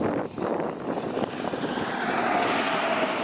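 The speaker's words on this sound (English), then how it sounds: "Ignore the tractor trailer." A tractor-trailer truck passes on an open highway outside Albuquerque, New Mexico, its broad engine and road rumble swelling loud and close across the clip.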